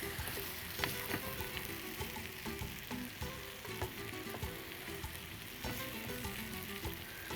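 Masala and egg yolk fry together in a pan, sizzling continuously under repeated scraping and stirring taps, close and fairly quiet, with no talk.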